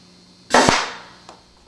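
A homemade laser-guided marshmallow gun fires once, a sharp close pneumatic pop with a brief hissing tail, followed by a faint small tap about a second later.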